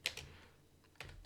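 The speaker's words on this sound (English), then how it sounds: "Let me type it up right now." Brief bursts of computer keyboard typing, a few quick key clicks in two clusters separated by a short quiet pause, close and fairly soft.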